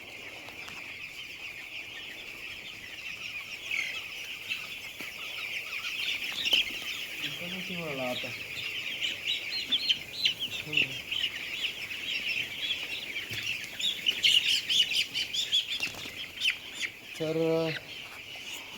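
Chickens in a poultry shed keep up a constant high chirping chorus, with a few louder clucks and calls standing out nearby; a voice speaks briefly.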